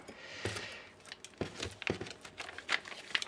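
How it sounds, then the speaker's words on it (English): A plastic bag from a pirate ship model kit is sliced and pulled open with a sharp hobby knife, giving a handful of quiet, close crinkles and tearing snaps spread irregularly across a few seconds. "So let's open this bag."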